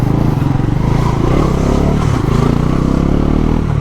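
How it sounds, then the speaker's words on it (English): A Bajaj Pulsar NS 400Z motorcycle engine idles and revs with a deep, throbbing exhaust note, steady and close throughout, with a faint clatter underneath. "I love that meaty, bassy exhaust note or the engine note of this motorcycle"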